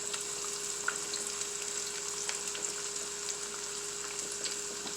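Flounder fillets fry in a pan with a continuous close sizzle, broken by scattered pops and crackles of hot oil. No one speaks.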